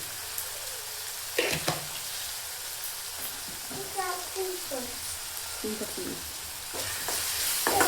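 Puffed rice churumuri being mixed with sugar, North Karnataka style, giving soft rustling and scraping stir sounds in bursts, with a few brief clatters and faint voices in the background.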